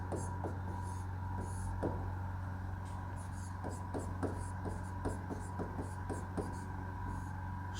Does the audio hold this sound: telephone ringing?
no